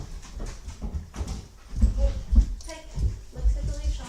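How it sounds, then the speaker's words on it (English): A large dog arriving indoors, with soft whimpers, paw and collar clatter, and thumping movement near the microphone, coming in irregular bursts. "And here comes the monster dog, Jax."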